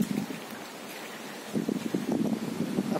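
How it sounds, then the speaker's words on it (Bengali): Strong gusting wind from Cyclone Remal sweeps across a rooftop garden during light rain, a steady rushing roar that swells into louder buffeting bursts partway through, with no talking. "আর প্রচুর হাওয়া হচ্ছে,"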